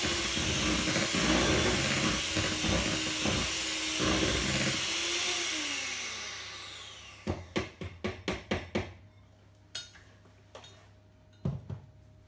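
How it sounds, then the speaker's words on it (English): An electric mixer whirs loudly through banana bread batter for several seconds, winding down in pitch, then a run of sharp clattering knocks follows as the beaters are tapped against the bowl. "I'm going to give it a quick little mix with the mixer to make sure it's all combined"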